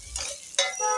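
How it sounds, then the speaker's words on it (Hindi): Chopped garlic, ginger and green chillies fry in a pan for tindian curry, a close sizzling hiss that surges in two bursts, likely as the pan is stirred, with no talk. "बस इसको भी हल्का सा हम फ्राई करेंगे 1-2 मिनट के लिए"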